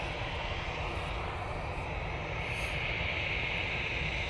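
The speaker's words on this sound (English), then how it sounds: "Aer Lingus A380 returning back to Dublin now" An Aer Lingus A380 passes over Manchester Airport on its way back to Dublin, its jet engines making a loud, steady, broadband roar with a hissing upper edge that holds constant throughout, with no talk.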